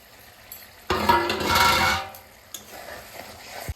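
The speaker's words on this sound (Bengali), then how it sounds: "এবার ঢেকে ঢেকে মশলাটা একটু কষিয়ে নেব" Masala spice paste fries in a covered pan with salt added, giving a short burst of sizzling and stirring about a second long, then faint crackle and a light clatter.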